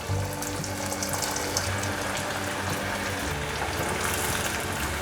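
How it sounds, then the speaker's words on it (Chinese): Slices of vegan gluten sausage deep-fry in hot oil, giving a steady, dense sizzle and crackle that stays close and even for several seconds with no talking. "接下来炸面肠， 我一片一片放下去"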